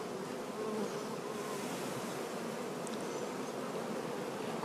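A mass of Carniolan and Buckfast honey bees buzzes continuously at an opened hive in a dry period, a thick, even drone close to the listener with no speech.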